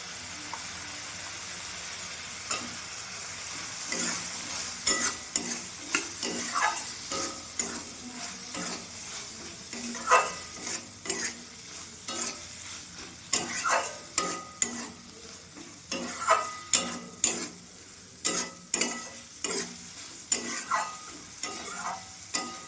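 Cut potatoes dropped into hot oil over cooked-down spices in a pan, a steady loud sizzle broken by repeated scraping stirs, close up and continuous with no voices.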